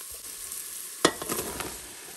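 Mushrooms tipped onto chopped shallots in a Cookeo pot and stirred, a soft frying sizzle that jumps at a clattering addition and continues with light scraping stirs, near and fairly quiet.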